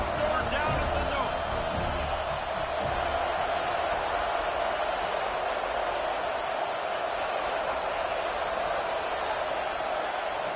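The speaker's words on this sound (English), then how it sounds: "Man, this crowd really affecting the football game." Football stadium crowd roaring on third down, a dense continuous wall of noise under a commentator's voice, steady and loud throughout.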